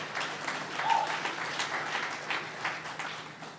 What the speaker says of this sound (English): We can clap for Dr. D'Andrea